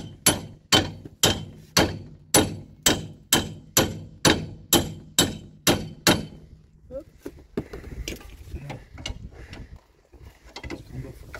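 A hammer strikes hard on a metal part on a van to knock it loose, about a dozen loud ringing blows at an even pace, followed by quieter clanks and handling noises.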